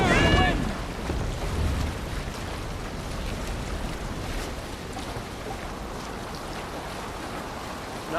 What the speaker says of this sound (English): Sail! Catch the wind!